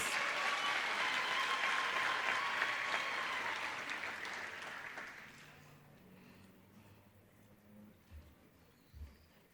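Graduates are applauded at a university commerce faculty graduation ceremony; dense clapping rises, then tapers off into quiet over several seconds, with faint soft sounds afterward.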